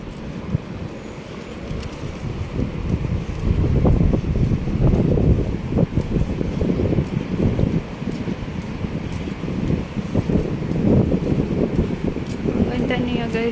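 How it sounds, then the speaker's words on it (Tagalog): Wind blowing outdoors in a park in Dubai, a steady broadband rush of gusts and microphone buffeting running throughout, with people talking over it. "Mahangin, malamig."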